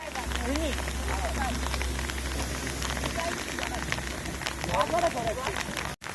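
Rain falls steadily during an outdoor football practice, pattering on a plastic cover over the recording phone, with low engine-like rumble at first and scattered players' voices shouting in the wet.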